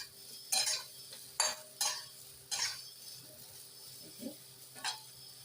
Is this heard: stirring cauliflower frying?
yes